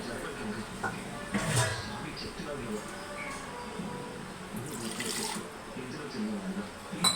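Water trickling and pouring into curd for ragi java, a soft splashing stream under a speaking voice, with brief louder gushes.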